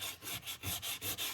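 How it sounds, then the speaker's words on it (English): Sandpaper of 80 grit rubs back and forth across a car's underbody, steady rhythmic scraping strokes about five or six per second, close and fairly quiet, with no talking. "Sanding the whole underbody for Raptor liner."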